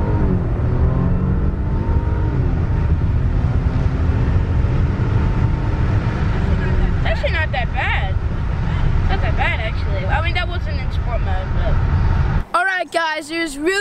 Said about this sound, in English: We're gonna do the 0-60 test in the brand new Audi A8 sunroof open.